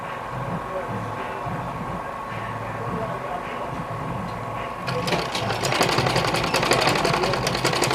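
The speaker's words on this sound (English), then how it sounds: "So I'm going to go take this stitch neatly at the edge" A sewing machine stitches along the edge of a tunic pocket, running steadily close by with a fast, even mechanical whir that gets louder and busier partway through.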